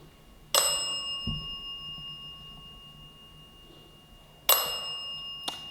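A bell rings out in a quiet, echoing room during a nighttime ghost hunt at the Pennhurst asylum, two clear struck dings separated by a few seconds of near silence, each decaying slowly with a faint hum underneath.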